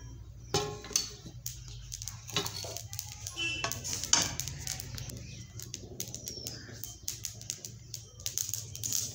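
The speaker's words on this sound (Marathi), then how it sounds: "हे पहा, आपले तीळ भाजत आहे" Sesame seeds roast in a kadhai on low gas, with soft crackles and scattered scraping clicks from stirring, fairly quiet and close, in irregular bursts throughout.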